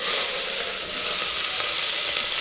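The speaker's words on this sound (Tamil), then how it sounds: "பட்டை வெங்காயம் போட்டுக்கலாம் வெங்காயம் போட்டுக்கலாம்" Cinnamon and sliced onions fry in a hot pan with a steady, loud, close sizzle that carries on without a break and with no voices.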